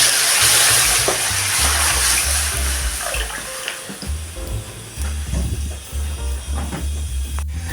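Roughly 1.5 litres of water pouring into a pot of fried chicken, making stock for a chicken and vegetable soup; a steady, close rushing hiss over a low rhythmic hum, lasting the whole stretch.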